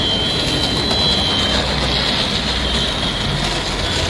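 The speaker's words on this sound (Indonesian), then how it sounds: "sekarang kita coba kereta Thomas Empreng" A Thomas and Friends toy train runs with a steady, close whirring hum and a thin high whine, continuous throughout with no talking.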